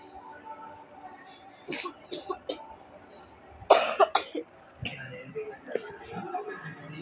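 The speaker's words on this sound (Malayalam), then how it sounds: "ഇടയ്ക്കൊരു ചുമയൊക്കെ ഉണ്ടാവും" A few short, sharp coughs from a person with a fever burst out close to the microphone, scattered between quiet stretches with faint background sounds.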